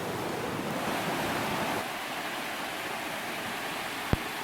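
Multi-tiered Orange Rock Falls on Buck Creek in Pisgah National Forest roars steadily as a dense, continuous rush of water heard from the base, with a brief sharp knock near the end.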